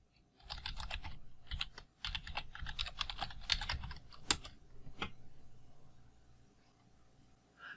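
Code being typed on a Mac computer keyboard: a steady run of close, crisp key clicks in quick bursts with brief pauses, heard alone before trailing off into quiet.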